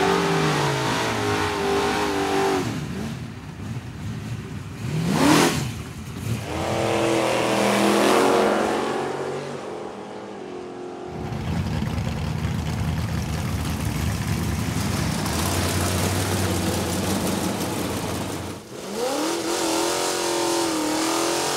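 A drag race car with over 1,000 horsepower revs hard and accelerates, its loud engine rising in pitch through several gear changes, with tire noise and a roaring pass that dominates the whole stretch.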